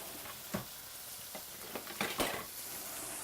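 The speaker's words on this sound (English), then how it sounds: "I'm going to go ahead and use my paddle" Veal sizzles in a hot pan while a paddle breaks it up, a soft, constant frying hiss punctuated by several scraping stirs.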